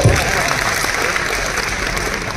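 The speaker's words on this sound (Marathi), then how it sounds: "स्वतः करता पुन्हा एकदा टाळ्या वाजवल्या पाहिजे" An audience of journalists applauds themselves at a gathering, with steady, dense clapping that holds at an even level throughout, close and loud, with a faint crowd murmur underneath.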